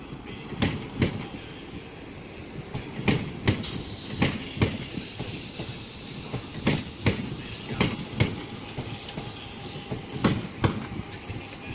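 A train rumbles past through Manchester Piccadilly station with a steady stream of rhythmic clicks and clacks from the wheels, fairly close, with a faint voice now and then.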